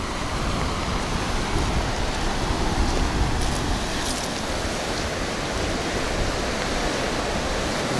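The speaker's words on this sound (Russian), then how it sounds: "Здесь всегда волны." Ocean surf on a beach on Margarita Island, Venezuela, roars as a constant, dense wash of breaking waves, steady and full throughout with no voices.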